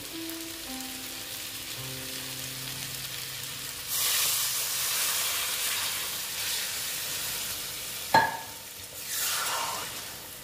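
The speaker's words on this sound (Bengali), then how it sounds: "এখন আমি একটু জল অ্যাড করে দেবো" Water is poured into a pan of simmering egg and potato curry, setting off a loud hissing sizzle that swells, briefly dips with a clank, then surges again; no voices.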